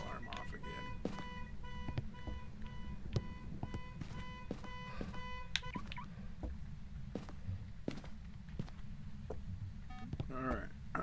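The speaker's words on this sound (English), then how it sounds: "Oh man, he set that car alarm off again." A repeating electronic car alarm tone from the video game Phasmophobia beeps steadily for several seconds, then cuts off, leaving scattered clicks and faint tones over a low background.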